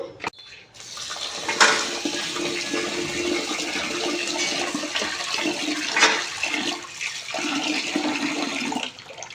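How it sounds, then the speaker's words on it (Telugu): Water runs steadily into a container of rice being washed, a rushing, splashing flow, briefly louder at a couple of moments, then cuts off near the end. "దీన్ని ఇప్పుడు వాటర్ వేసి వాష్ చేసుకుందాము"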